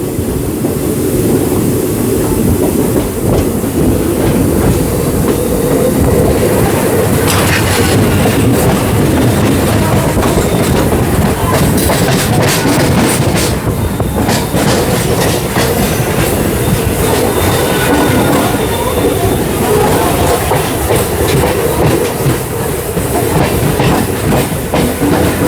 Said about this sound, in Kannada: ಮೆಮು ಜೊತೆ ಪ್ಯಾರಲಲ್ ರೇಸ್ ಐತೆ ನೋಡ್ರಿ ನಮ್ದೀಗ.